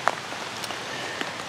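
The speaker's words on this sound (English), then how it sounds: "very pertinent right now since it's pouring rain" Heavy rain pours steadily in a broad, even hiss, close and continuous, with a few sharper drops striking nearby surfaces.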